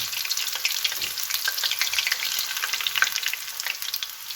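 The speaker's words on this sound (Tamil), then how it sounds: "எண்ணெய் சூடாகி வந்திருக்கு நாங்கள் ரெடி பண்ணி வச்ச சுண்டங்காயை கொஞ்சம் கொஞ்சமாக போட்டு பொரிச்சு எடுத்துக்கொள்வோம்" Turkey berries (sundakkai) crackle as they deep-fry in hot oil, a dense, steady sizzle with bright popping spatters throughout, close and continuous with no voices.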